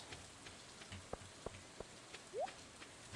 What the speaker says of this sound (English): The rain's nice here.